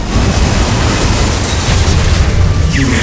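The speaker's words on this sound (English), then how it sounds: "Missile launched." Missile launch blast from the Command & Conquer: Rivals strategy game, a dense, sustained low rumbling boom that stays loud and steady for the whole stretch.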